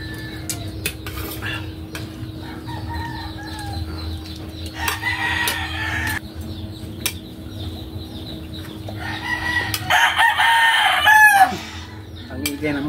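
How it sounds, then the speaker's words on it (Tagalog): Chickens cluck and a rooster crows in a household setting while dishes and utensils clatter, with brief background voices; the crowing rises loudest near the end. "Ang ingay ng manok madul."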